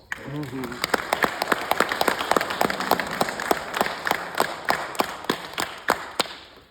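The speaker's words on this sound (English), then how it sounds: "Can you give yourselves a round of applause?" Graduates at a commencement ceremony give themselves a round of applause, a dense wash of many hands clapping with sharp individual claps standing out, while a speaker's voice carries over the start.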